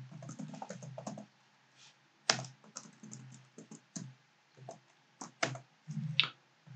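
Arduino code being typed on a computer keyboard: quiet, close clicking keystrokes in irregular bursts with brief pauses and a few sharper, louder key hits, no voices.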